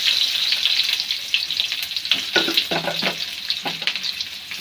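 Onions fry in oil for pasta with a bright, constant hiss, broken by several stirring scrapes and clatters from a utensil in the pan. The sound is close, with no voices.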